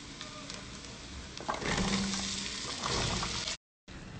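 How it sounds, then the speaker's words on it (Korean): Garlic and onion frying in butter in a pan after bacon, a steady close sizzle that swells louder midway, with a brief gap of silence near the end. "여기다가 버터를 좀 넣어서 마늘을 볶을게요."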